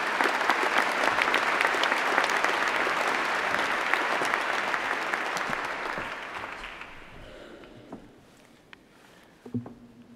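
A graduation ceremony audience applauds the graduates with dense, steady clapping that gradually thins and dies away after about seven seconds, leaving a few scattered claps and small noises.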